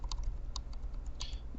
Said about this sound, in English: use the left and right brackets on your keyboard